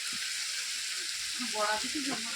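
Boiled banana flower lands in a hot pan and fries with a steady, close, loud hiss and sizzle, while a voice speaks briefly underneath.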